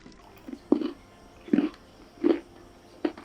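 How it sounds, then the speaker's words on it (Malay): Crunchy kuih siput, a fried snail-shaped Malaysian snack, being bitten and chewed in four or five separate close crunches spaced through a quiet background, with no talking. "dengar bunyi kuih siput ni"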